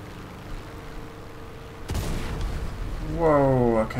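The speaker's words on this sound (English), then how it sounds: "someone's firing at us" Enemy gunfire aimed at an AD-4 Skyraider in War Thunder: a sudden burst of booming shots, then a rising roar of engine and impacts, with voices talking underneath.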